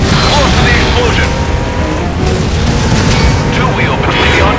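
Explosion in the stunt-driving game Stuntman Ignition, heard as a loud, sustained rumbling blast under dense engine noise and a spoken voice.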